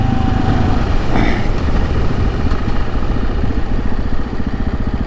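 A Suzuki DR-Z supermoto motorcycle idles nearby with a steady, low, throbbing single-cylinder pulse that continues throughout, with a brief higher whine or squeak early on and no talking.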